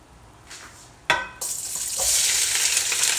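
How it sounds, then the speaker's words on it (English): Scotch bonnet pepper, Brussels sprouts and cauliflower drop into a hot pan with a sudden clatter, and a loud, steady sizzle quickly swells and fills the air. "We're just gonna take all of it, and put it in the pan."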